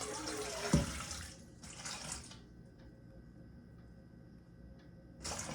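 Warm water pours from a tap for bread dough, a steady rushing splash for about two seconds, then a quiet gap with faint ticks before another brief burst of running water.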